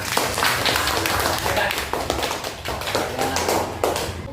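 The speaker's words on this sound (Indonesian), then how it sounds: "Aplaus untuk kita semua." Classroom applause from a fourth-grade class: dense, continuous clapping from many hands filling the room, steady and fairly loud with scattered sharper claps throughout.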